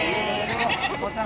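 Goats bleat amid a crowded livestock market, several overlapping calls rising over steady chatter of traders and buyers close by.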